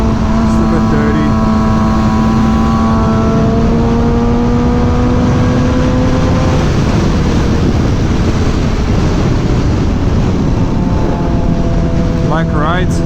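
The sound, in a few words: Suzuki GSX-R 600 motorcycle engine revving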